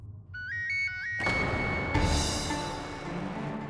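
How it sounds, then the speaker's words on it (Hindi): An incoming-call phone ringtone plays a short repeating electronic melody, then gives way to a loud dramatic whoosh and music swell in a Bhojpuri TV drama scene. "एकरे घर से तो फोन भी आवता"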